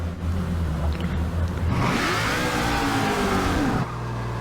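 A Hot Wheels Mustang in Forza Motorsport 6 revs hard over a steady low engine drone. The pitch climbs and sweeps through the middle of the clip, then drops back to a lower idle near the end. No one speaks.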